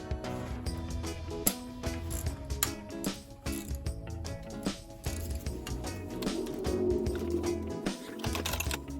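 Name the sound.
swivel ratchet removing motorcycle brake rotor bolts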